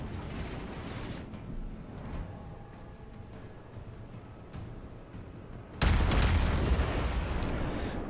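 USS Baltimore cruiser firing HE shells in World of Warships: a steady low rumble of battle, then a sudden heavy cannon salvo that booms loudly and keeps roaring.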